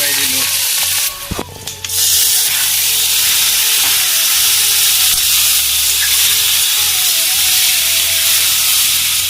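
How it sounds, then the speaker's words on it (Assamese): Potatoes and chicken fry in a kadai with a loud, steady sizzling hiss that runs almost without a break, dipping only briefly near the start. "এইফালে আলু চালু তেনেকৈ কৰি মেলি ধুনীয়াকৈ ভাজি লওঁ"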